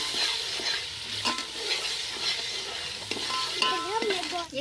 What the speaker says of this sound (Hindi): अब इसमें हम तमाम ये मसाले जो है वो शामिल कर देंगे और इसे हम 1 मिनट तक भून लेंगे।